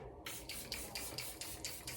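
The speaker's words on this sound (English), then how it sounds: "So now we're gonna do setting spray. This is the Charlotte Tilbury one that I love. Spritz this everywhere." A Charlotte Tilbury makeup setting spray is spritzed repeatedly: about seven quick, hissy pumps in a steady rhythm, close and fairly soft, with no talking.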